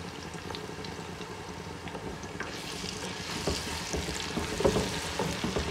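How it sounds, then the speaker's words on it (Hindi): Garlic and ginger paste hits a pan of browned onions for chana pulao, giving a moderate, steady sizzle that swells slightly in the second half, with faint stirring scrapes and no talking. "तो अब मैं इसके अंदर डालूंगी लहसुन और अदरक का पेस्ट"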